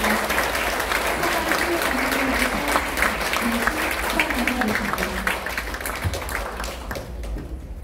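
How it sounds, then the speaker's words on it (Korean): A crowded audience at a National Assembly award ceremony in Korea gives steady, dense applause in congratulation, loud and continuous throughout, with a low murmur of voices underneath. "네, 여러분 뜨거운 박수로 축하해 주시기 바랍니다."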